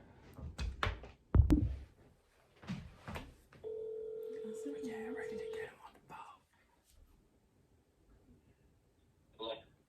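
A phone places a call with a steady tone of about two seconds after some quiet clicks and handling noises, heard close up in a quiet room with faint voices around it.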